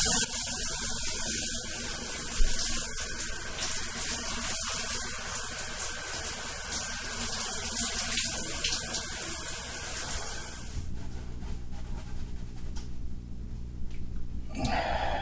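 Warm water runs steadily from a tap, splashing and gushing continuously at close range, then drops to a quieter, thinner trickle near the end.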